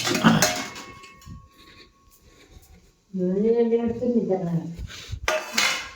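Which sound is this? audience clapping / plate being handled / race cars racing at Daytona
plate being handled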